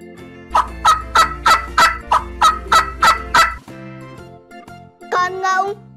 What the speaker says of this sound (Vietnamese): Gà tây.